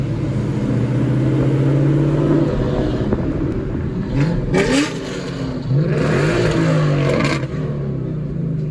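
A Mustang at an outdoor car show revs its engine hard and accelerates away, a loud, close roar that rises and falls in bursts with crowd ambience around it.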